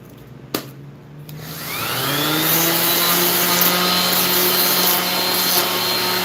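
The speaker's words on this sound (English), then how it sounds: "Make sure you put sandpaper on your sanders." Electric sander starting up and running against wood after a sharp knock, its motor whine rising and then holding steady and loud with a continuous rough rubbing underneath.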